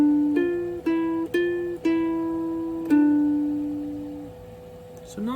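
A ukulele plays a song slowly and in time, a few single plucked notes ringing out one after another before a longer sustained note fades, quiet and close.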